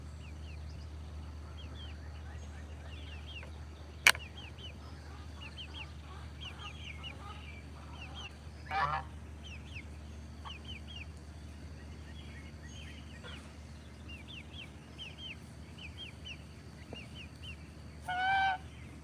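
Backyard chickens in a coop give faint, scattered clucks and calls over a steady low background hum, with a sharp click and a couple of brief louder squawks.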